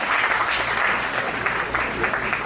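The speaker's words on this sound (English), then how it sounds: "Give him a round of applause" An audience at a school reunion event in Chicago applauds a certificate recipient, a steady, dense wash of clapping from many hands that holds loud and even throughout.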